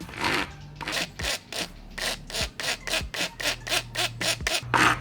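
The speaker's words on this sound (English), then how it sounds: "see if we can file this down to fit" Hand file rasping a part down to fit during a Mishimoto radiator install on a sixth-generation Toyota Celica 5SFE, heard as about a dozen loud, close, rhythmic back-and-forth strokes with brief gaps between them.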